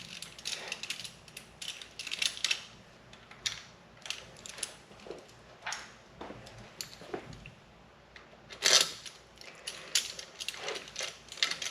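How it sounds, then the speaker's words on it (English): A T-handle ratchet spins bolts back into a Kawasaki Versys 650 motorcycle during stator replacement, producing rapid, close bursts of ratcheting clicks in repeated irregular runs. "putting bolts back in like this, it's amazing because you can just twist it so fast"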